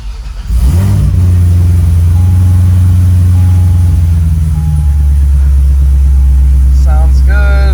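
A car engine cranks and fires on its first start-up, settling into a loud, deep rumbling idle close by, with light revving and brief chirping noises near the end.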